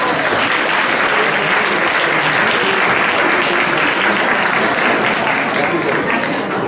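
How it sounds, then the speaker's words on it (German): Loud, continuous applause from a large audience at a children's carnival prince coronation in Düsseldorf, dense and sustained throughout without a break. "Applaus!"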